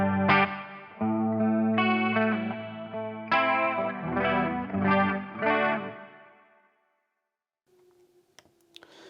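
A guitar runs through the classic Boss CE2 chorus model on a Boss PX-1 Plugout FX, shimmering sustained chords strummed in several phrases that fade out, followed by faint clicks and a short tone near the end.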